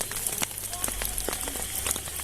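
Light rain drizzles on a camping tent along the Villa Verde Trails road, a steady patter of small drops and soft crackles over continuous close hiss.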